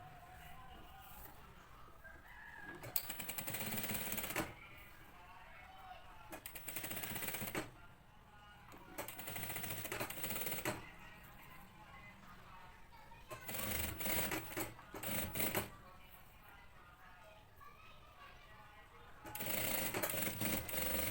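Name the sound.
sewing machine stitching a neckline with matching thread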